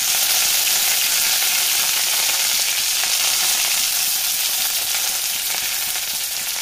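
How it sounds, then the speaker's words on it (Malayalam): Dried red chillies and curry leaves sizzle in hot oil while shrimp is being prepared, a loud, steady crackling fry that holds evenly throughout with no speech. "ഇതിലേക്ക് നമുക്ക് രണ്ട് വറ്റൽമുളക് ഇട്ട് കൊടുക്കാം. കുറച്ച് കറിവേപ്പിലയും പിച്ചിക്കേറി ഇട്ട് കൊടുക്കാം."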